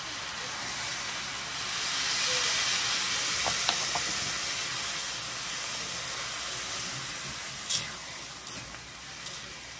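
Chicken broth poured into a hot pan while cooking pancit canton, giving a steady broad steam hiss throughout with a few brief clinks and spikes near the end, close and moderately loud.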